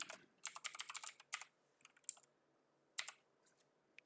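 Code being typed on a computer keyboard: bursts of quick, close key clicks with short pauses between runs, no voices.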